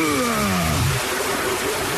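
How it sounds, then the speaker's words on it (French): A urination sound effect in a French radio comedy skit, a short falling trickle of liquid that fades after about a second, leaving faint hiss. "Je fais pipi."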